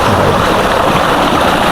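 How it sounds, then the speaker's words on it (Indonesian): Broadband rushing water from a clear countryside stream flows steadily and close, a continuous loud wash with no pauses or other sounds. "Ini suara air."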